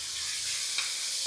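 Onions stirred and frying in hot oil for a healthy ragi soup, a steady soft sizzle with a faint scrape of stirring and a brief clink near the end.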